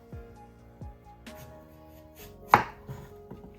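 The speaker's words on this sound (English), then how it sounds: "we're gonna cut them into slices so kind of get rid of the seeds and stuff" Knife cutting green apples into slices on a cutting board, a few distinct thuds and crisp cuts at uneven intervals with one sharper chop near the end, close and fairly quiet with no talking.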